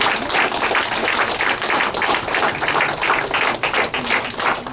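An audience at a panel discussion event applauds, a steady burst of many hands clapping at moderate volume from across the room, continuing for several seconds without talk.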